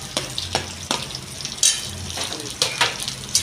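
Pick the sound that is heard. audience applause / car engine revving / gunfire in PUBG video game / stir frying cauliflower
stir frying cauliflower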